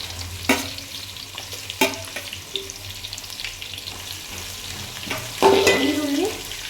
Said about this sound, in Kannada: ಈಗ ಸಣ್ಣದಾಗಿ ಉದ್ದಕ್ಕೆ ಹೆಚ್ಚಿರುವಂಥ ಈರುಳ್ಳಿನ ಹಾಕ್ಕೊಬಿಡೋಣ